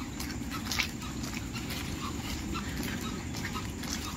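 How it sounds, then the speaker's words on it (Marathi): Slippers of several people walking on a wet lakeside path in the rain make soft, irregular slapping footsteps over a constant low outdoor rumble, with no talking. "चपलांचा आवाज चालताना सगळ्यांचा येतोय."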